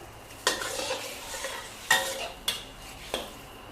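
Sauce for a glass noodle, cha-om and egg stir-fry sizzling in a pan, broken by several sharp scraping strokes of a spatula against the metal, close up with no talking.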